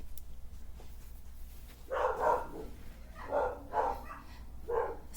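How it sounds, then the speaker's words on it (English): Several dogs, large and small, bark in short rough bursts from a moderate distance, three or four volleys spaced a second or so apart against a quiet background. "Something's stirring the dogs up."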